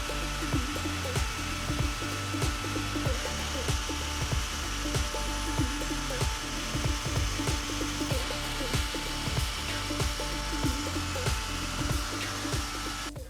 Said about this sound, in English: just soften it up to around 600 grit or so and get these things cleaned up